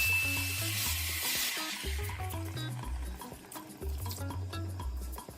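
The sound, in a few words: stirring beef sauce sizzling in a pot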